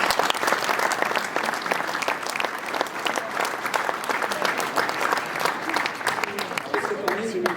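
A hall full of people at a New Year's greetings ceremony giving a loud, sustained round of applause, dense overlapping claps at close range continuing without a break, with a voice faintly audible near the end.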